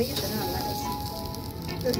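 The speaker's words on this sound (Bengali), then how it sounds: "ফার্স্টে চিকেনটা দিয়ে দেওয়া হলো বারবিকিউ করার জন্য" Chicken pieces just laid on a barbecue grill outdoors at night give a steady, close sizzling hiss with no break.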